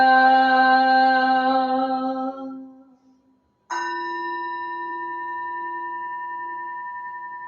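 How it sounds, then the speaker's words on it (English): A temple bell at a Sunday morning Zen Buddhist service is struck twice. The first ring decays over about three seconds, then a second clear strike follows with a long, steady sustain and no talk. "the sound of the bell"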